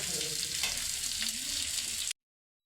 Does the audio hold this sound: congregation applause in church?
no